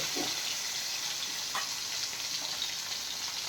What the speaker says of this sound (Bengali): গরম ভাতে মাছের তেল দেখছো কীরকম ফুটছে